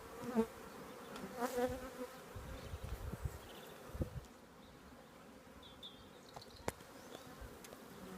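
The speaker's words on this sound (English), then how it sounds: "Let's open up this hive. It's going to be packed full of bees." Honey bees in an opened, overflowing hive set up for queen rearing hum in a dense, continuous buzz close by, with occasional soft handling knocks and no talk.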